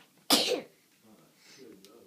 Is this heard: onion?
no